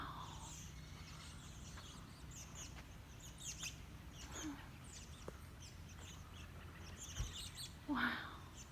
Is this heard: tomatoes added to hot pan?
no